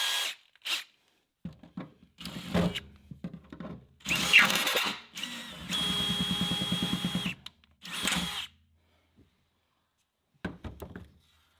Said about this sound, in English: I'm going to try to drill out the entire bolt